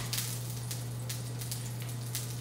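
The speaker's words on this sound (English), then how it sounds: "So the tomatoes now, I'm just gonna put flesh down. You can hear them sizzling." Tomato halves sizzle flesh-down in a hot pan, giving a steady crackling hiss with scattered pops, heard alone over a constant low hum.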